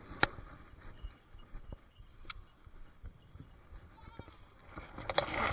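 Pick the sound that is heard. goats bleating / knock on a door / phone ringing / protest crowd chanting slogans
goats bleating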